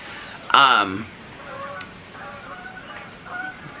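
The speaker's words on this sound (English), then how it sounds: "Those were geese." A loud honking goose call rings out once, followed by fainter distant honks from a flock over quiet outdoor ambience.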